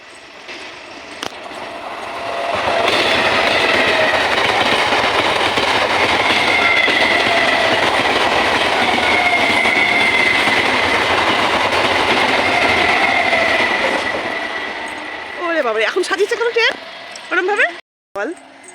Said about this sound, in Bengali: ওই যে আসছে একখানা ট্রেন আসছে একখানা